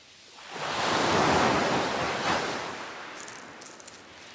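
A wave rolls in and washes over the shore in a long, loud rush of surf, then slowly fades with faint splashes.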